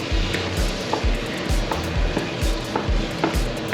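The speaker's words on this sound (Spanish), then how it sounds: "Le damos la vuelta a la sartén, le incorporamos el tomate frito" Meat filling for an empanada fries in a pan with fried tomato, a continuous loud sizzle broken by regular scraping, stirring strokes roughly every half second.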